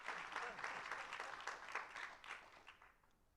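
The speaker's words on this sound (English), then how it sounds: "Here's a soft clap." Light applause after a conversation with a rock band, scattered claps that are fairly quiet and taper off toward the end.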